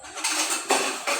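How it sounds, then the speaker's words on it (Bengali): A wooden masher works boiled masoor and mung dal in a pot, making a short burst of wet, scraping clatter in two or three quick strokes, close and moderately loud. "এই যে ডাল ঘুটনি দিয়ে এই ডালটা আমি ভালো মতো ঘুটে দিলাম।"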